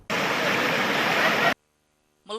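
Fast water rushing over rocks on a natural river slide at the foot of Mount Rinjani: a loud, dense, continuous roar for about a second and a half that cuts off abruptly, then silence before a voice begins.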